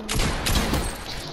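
Loud gunfire in a video game, a short, dense burst of shots ringing out close and harsh for just over a second, with no voices.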